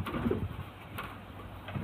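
A female pigeon coos softly nearby, a few low murmuring calls over a quiet background.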